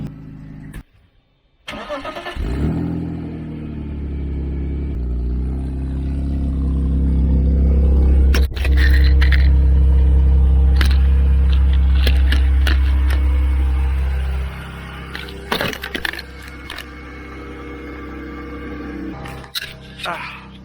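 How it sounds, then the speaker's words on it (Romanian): A BMW E46 with a welded differential out on a road test: the engine starts, then a strong low drone builds and holds under acceleration before easing off, with brief bumps and clicks and a voice talking over it. "am ieșit cu mașina la test"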